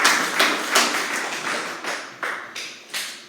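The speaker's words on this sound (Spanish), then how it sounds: "Y le damos un aplauso al Señor" A church congregation applauds during a Spanish-language service, a series of sharp, regularly spaced claps that ring briefly and fade between beats, fairly close and without talk.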